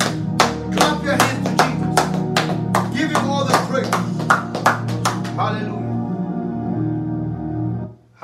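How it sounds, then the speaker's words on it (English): A church congregation at a prayer and deliverance service claps in a steady, rhythmic beat over sustained music and voices, the claps stopping after a few seconds while the music rings on and then cuts off. "Clap your hands to the Lord."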